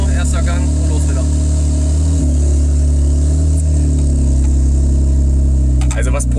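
Tuned 9FF Porsche 992 Turbo S pulling away hard in first gear, a loud steady engine roar filling the whole clip, with voices talking inside the car over it.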